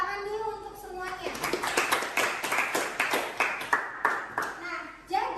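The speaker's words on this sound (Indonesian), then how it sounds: "Tepuk tangan dulu untuk semuanya." A classroom of students claps together in a quick, rhythmic pattern of close, loud hand claps, with children's voices at the start and the end.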